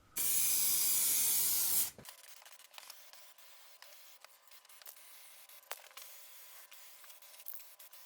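Loud steady hiss of a spray can coating cabin heater casing parts for a Triumph TR7, a single burst of about two seconds that cuts off abruptly, followed by faint small clicks and room noise.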